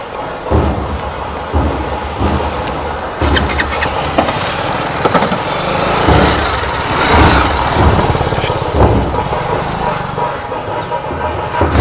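A TVS Apache RR 310 motorcycle engine runs nearby after its third service, with a steady rumbling idle and occasional throttle surges over nearly twelve seconds, loud and continuous.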